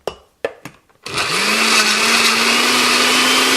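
A few knocks and clatters of ginger and fruit in the jug come first, then a blender making juice with ginger roars to life and runs at a steady high whine, close and loud.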